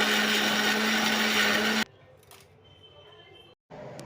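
Kitchen blender grinding cooked, cut beetroot into a chutney, loud whirring for under two seconds before it stops, followed by quiet handling noises and a brief restart.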